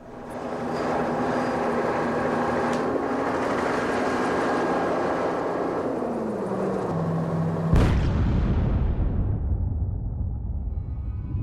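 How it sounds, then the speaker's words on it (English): A bomb dropped from a helicopter onto a rooftop bunker on a city row house, a long droning engine hum that breaks into a sudden loud, rough blast which rumbles and fades into noise. "Powell dropped the bomb, straight onto MOVE's rooftop bunker"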